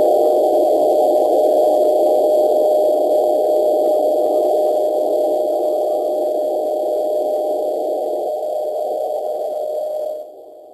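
A steady pure test tone sits inside a band of hiss from a radio receiver during a third-order intermodulation dynamic range measurement, holding constant and fairly loud for about ten seconds before dropping away at the end.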